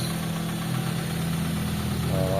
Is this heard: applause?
no